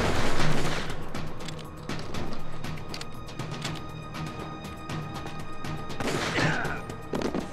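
Rapid SOCOM pistol gunfire in Metal Gear Solid: The Twin Snakes, with sharp shots cracking in quick clusters over a busy, echoing game soundscape. A longer metallic clatter sweeps through near the end.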